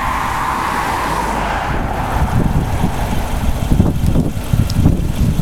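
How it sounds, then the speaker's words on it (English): Cars on a busy road pass close by with a loud, continuous engine rumble and tire roar that swells as a vehicle goes past. "You see, a lot of cars go up and down this road."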